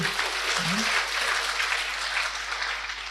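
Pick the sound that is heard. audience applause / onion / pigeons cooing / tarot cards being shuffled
audience applause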